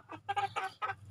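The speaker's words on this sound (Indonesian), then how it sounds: "Kerennya teman-teman kalau kita pelihara ayam di kebun. Enak teman-teman. Ayamnya bebas berkeliaran." Free-range chickens roam a garden, giving a short run of close, loud clucks in quick uneven bursts with no talk over them.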